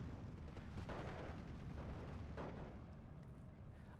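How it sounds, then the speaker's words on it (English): Mortar shells pounding an ITPSV vehicle in Steel Division 2, a steady low rumbling barrage with a couple of duller blasts, distant and muffled, no talk over it. "The ITPSV getting hit by the mortars"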